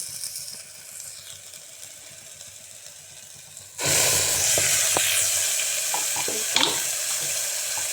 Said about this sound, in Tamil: அடுப்பை சிம்மில் வச்சு நல்லா கிளறிடும்